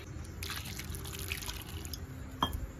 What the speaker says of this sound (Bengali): তো সবার প্রথমে আমি জল দিয়ে ধুয়ে নেবো।